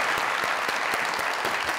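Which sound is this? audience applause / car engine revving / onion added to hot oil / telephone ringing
audience applause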